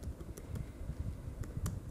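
Quiet, close tapping on a computer keyboard while ASP.NET code is entered, a quick irregular run of soft key clicks with no voices.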